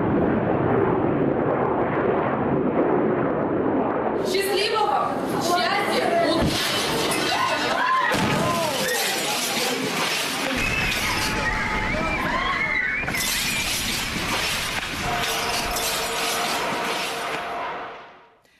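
A meteor explodes over the Chelyabinsk region of Russia with a loud, sustained roaring rumble, followed by bursts of shattering and breaking glass and scattered background voices throughout.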